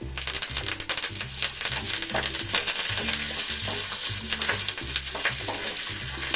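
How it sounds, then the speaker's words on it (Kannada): Mustard seeds, dry red chillies and curry leaves sizzle and crackle steadily in hot tempering oil for a millet bisibele bath, with a dense continuous hiss, scattered pops and rhythmic stirring scrapes, close and loud, no talking. "ಇವಾಗ ಸಾಸಿವೆ ಹಾಕೋತಾ ಇದ್ದೀನಿ ನಾನು"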